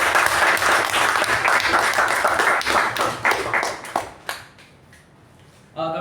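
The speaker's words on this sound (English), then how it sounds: "So big applause to our VPM and associate VPM," Applause at a Toastmasters club meeting, a steady burst of many hands clapping that fades out over several seconds, with a short voice coming in at the very end.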